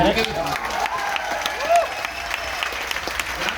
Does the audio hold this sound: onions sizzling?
no